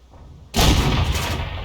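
A StuG III Ausf G tank cannon fires in a video game tank battle, one sudden loud, close boom after near silence, followed by a sustained rumbling decay.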